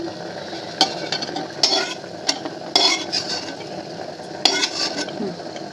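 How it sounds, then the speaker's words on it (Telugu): Cashew nuts frying in ghee as they are stirred in a pan, with a soft sizzle underneath and scattered metallic clinks and scrapes of a spoon against the pan. "ఇప్పుడు జీడిపప్పు వేసుకుందాం"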